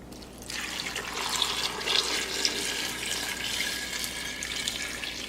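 Six cups of water pour steadily into an Instant Pot with apples and oranges, a continuous close splashing rush that fills the whole stretch, no one speaking.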